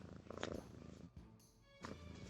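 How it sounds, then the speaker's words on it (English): A kitten purrs in a steady, close, rumbling stream, briefly softening midway before picking back up. "Kitten purrs."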